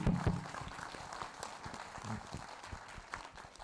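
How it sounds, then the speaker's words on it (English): An audience claps for presenters at an Income Tax Department outreach awareness program. The applause is faint and somewhat distant, with scattered, uneven claps running throughout. "I once again give a good thanking clap to the IT officers who has given a beautiful presentation"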